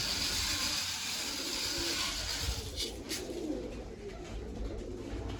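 Pigeons coo softly while feeding, with low repeated coos over a quiet outdoor background and a couple of brief rustles.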